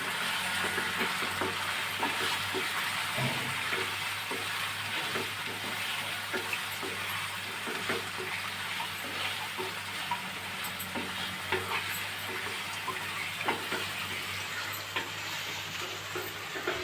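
Chicken curry with tender tamarind leaves and a spoon of chili powder is stirred in a pan. A constant frying sizzle runs under repeated scraping and tapping of the spoon. No voices are heard.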